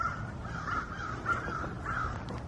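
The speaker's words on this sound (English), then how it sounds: "have you ever heard crows going, the other crow in the tree says to the other crow, when a car comes, he goes, "Ka, ka, ka, ka, ka."" Crows caw from nearby in a steady series of about four harsh calls, evenly spaced and standing out against a quiet outdoor background.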